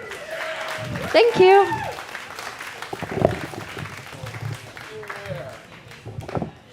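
Comedy club audience clapping after a stand-up set, a brief burst of applause under and around a speaking voice that continues across the clip.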